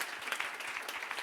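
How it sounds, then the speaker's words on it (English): Audience applause at STING Day 2015, a dense, steady patter of many hands clapping throughout a short burst, fairly close and even in level. "Big applause for them."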